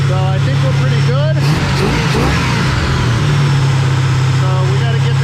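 A car engine running after a new engine break-in, idling steadily with a loud, low, choppy rhythm throughout while a person talks over it.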